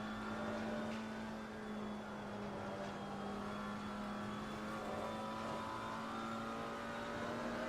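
A GT4 race car engine in the Assetto Corsa Competizione video game drones at steady high revs throughout, a continuous loud whine with no talking over it.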